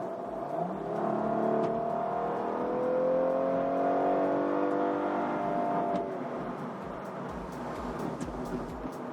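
A twin turbo Cadillac CTS-V Sport accelerates hard in a roll race, a loud sustained engine roar with rising, sweeping pitch that peaks midway and then eases off as the car pulls away.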